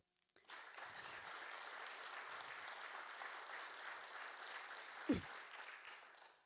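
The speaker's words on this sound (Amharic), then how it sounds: "እስቲ ለእግዚአብሔር አጨብጭቡ።" A church congregation claps together in worship, a dense sustained burst of applause starting abruptly and holding steady, with a single louder knock near the end.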